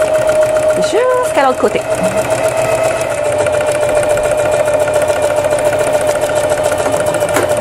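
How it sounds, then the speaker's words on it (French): A sewing machine stitches fabric for an apron, running steadily with a continuous mechanical hum through the clip while someone talks briefly near the start. "un petit point de reculon et je vais coudre"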